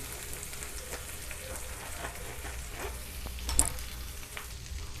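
Bhaji for pav bhaji being mixed in a hot pan, with a steady close sizzle and soft scraping stirs running throughout and one sharper clink near the end; no voices.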